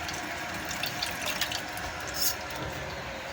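Steady running water from a tap splashes continuously over lettuce leaves being washed in a sink, with faint intermittent clinks and no talking.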